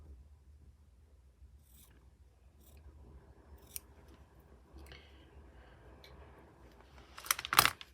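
Fabric is cut with scissors in a quiet room: faint handling and rustling, a few soft snips, then a sharp burst of close blade clicks near the end.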